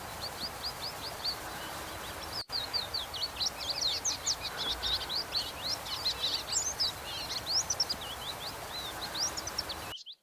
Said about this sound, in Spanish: En un espinillo cercano, unas tacuaritas recorrían las ramas buscando bichitos.